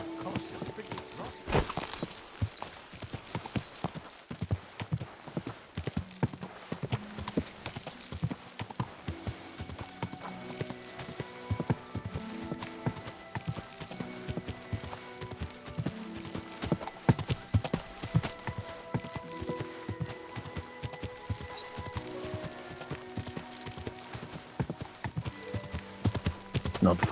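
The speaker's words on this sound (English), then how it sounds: "This horse must have cost a pretty lot." Horse hooves clip-clop at a steady walking rhythm in Kingdom Come: Deliverance II, close and clear over a soft musical score, with occasional light creaks and snorts.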